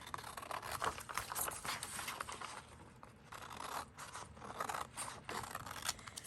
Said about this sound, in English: And now I'm just going to trim around what I had already trimmed.